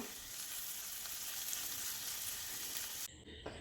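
Potato masala with boiled turmeric potatoes and carrots sizzles in a pan as it is stirred, a steady close frying hiss that cuts off abruptly near the end, leaving brief quiet clatter.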